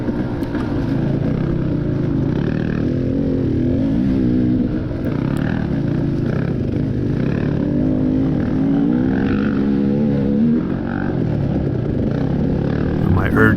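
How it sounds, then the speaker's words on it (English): KTM 250 dirt bike engine during a cross-country race, a loud continuous close-up engine drone with shifting revs and wind rush, heard throughout with a voice talking over it. "So there's Jackson ahead of me on the 250"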